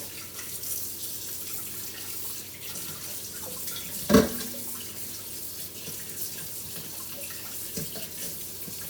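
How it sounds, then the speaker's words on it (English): Cold water runs from a kitchen tap into a sink for rinsing ox tails, a steady moderate hiss with one brief splashy clatter midway and no voices. "So now I'm going to turn on the cold water, and I'm going to rinse the meat very well."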